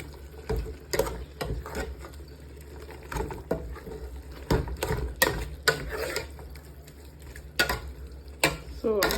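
A spoon scrapes and clatters in a pot as pumpkin leaves are stirred into Nigerian moringa soup, with irregular close knocks and soft wet churning over a low bubbling background.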